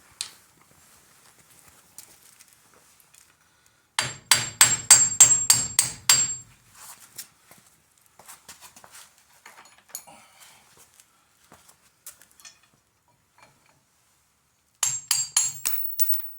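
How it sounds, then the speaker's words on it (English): Sharp metal-on-metal hammer strikes on a punch, knocking a part out during a front disc brake conversion on a 1928–1931 Ford Model A, ring out in a rapid burst, then scattered lighter taps, then another quick flurry of blows. "So now I'm going to take a hammer and a punch to knock this out."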